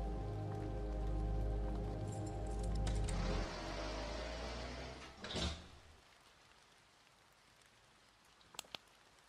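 Rain pours steadily in the game Terminal 81, a dense hiss for the first few seconds, then a sliding or door-like swell before it cuts away to near silence with a couple of faint clicks.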